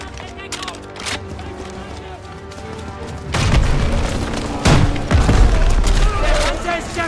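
A tank being destroyed in Call of Duty: WW2, with heavy booms and explosive blasts erupting amid scattered gunfire, loud and close, while in-game voices shout over the battle.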